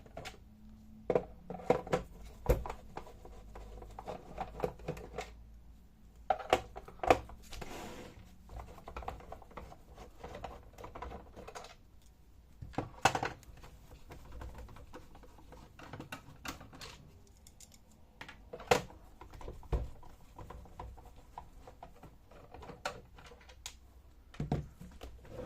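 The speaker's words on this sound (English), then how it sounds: "rotate it to the bottom side and unscrew the 5 screws" Screws are worked loose from the battery cover on the underside of a Schneider Electric BVS500I UPS, giving scattered metallic clicks and small knocks with quiet pauses between them, close by.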